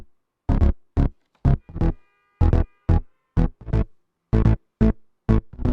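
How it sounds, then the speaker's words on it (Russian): Punchy synth bass with full sidechain ducking throbs in a repeating rhythm, each note cut short with gaps between, and a faint high tone briefly appears midway. "на него наложен эффект сайдчейн"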